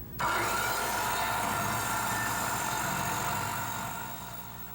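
An electric circular saw starts abruptly and whines steadily through a cut in wood with a gritty, rasping edge, then tails off slightly at the end.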